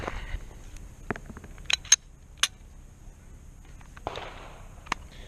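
A Glock 17 Gen 3 pistol fires in a fast shooting drill: sharp, fairly faint cracks in quick, irregular groups over a quiet background, with no voices.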